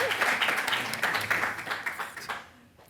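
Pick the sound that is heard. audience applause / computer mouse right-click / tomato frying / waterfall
audience applause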